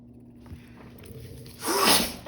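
A single sneeze bursts out near the end, sharp and fairly close, after a short quiet lead-in with faint room hum.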